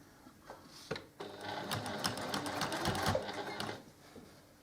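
A sewing machine stitching a quilt-as-you-go row, a fast steady mechanical whir with rhythmic needle clatter that builds after a few soft clicks and runs for several seconds before easing off.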